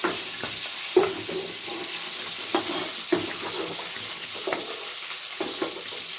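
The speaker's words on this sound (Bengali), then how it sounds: "আমার চিকেনটা হালকা লাল করে ভাজা হয়ে গেছে" Chicken pieces fry in hot oil, a constant crackling sizzle close by, broken by a few sharper pops and stirring knocks, with no talking.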